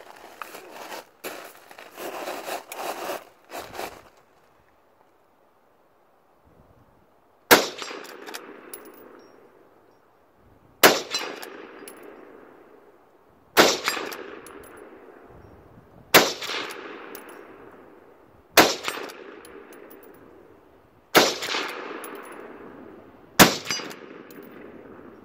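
Henry Mare's Leg lever-action carbine in .22 WMR firing at steel targets outdoors: loud, sharp shots spaced a few seconds apart, each followed by a ringing decay, with rustling handling noise before the first shot.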